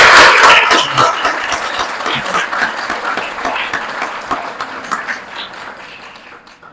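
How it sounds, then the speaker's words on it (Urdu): Audience applause at a Ramadan welcome gathering at Karachi University honouring Dr Arif Khan's silver jubilee: dense, sustained clapping from a crowd, loudest at the start and tapering gradually over several seconds. "تو ان کے لیے تھوڑا تالی کا"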